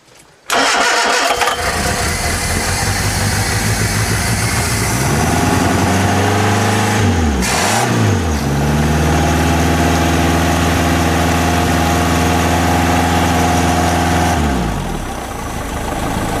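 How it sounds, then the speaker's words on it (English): An old 1100 Ford Escort engine fitted in a boat cranks, catches and settles into a steady, loud idle, with a brief dip in revs partway through before running evenly again and finally fading. "It's an old 1100 Ford Escort engine"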